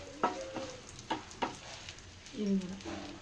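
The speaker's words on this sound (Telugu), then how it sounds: "నెయ్యి అయితే హీట్ అయింది ఫస్ట్ అయితే డ్రై ఫ్రూట్స్ వేయించుతున్నాము బాదం ఫస్ట్" Almonds sizzle in hot ghee with a constant frying hiss, broken by a few sharp clinks of a spoon stirring the pan and a brief voice near the end.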